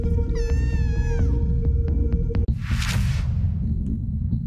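A cat in the video game The Dead Await gives a clear, drawn-out meow with a couple of rising cries, over a steady low throbbing hum, then a short noisy burst follows.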